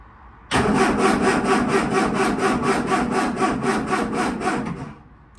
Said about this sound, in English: So let's see if there's any cranking power in the battery.